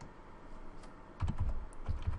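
Typing on a computer keyboard: quiet at first, then from about halfway a cluster of close, crisp keystrokes in short bursts, with no voice.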